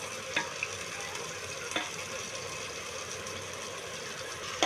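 Mutton being stirred with spices in a hot pan while cooking biryani: continuous sizzling and frying hiss with a few scraping stir strokes, close and fairly loud, no talking.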